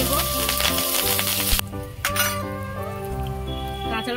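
Chopped green chillies hit hot mustard oil, left over from frying fish and tempered with bay leaf and nigella seeds. A loud, crackling sizzle rises and runs on, with a light clink of a utensil and tonal music in the background.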